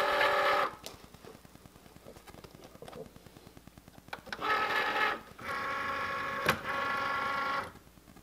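A Cricut Maker cutting machine loads material with mechanical whirring bursts and a quiet rhythmic ticking between them, close and clear, with motor runs starting and stopping over several seconds.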